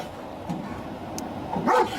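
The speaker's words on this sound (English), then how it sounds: "that dog really wants in there" A dog barks a couple of short, muffled yips from a distance, faint against a steady background hiss.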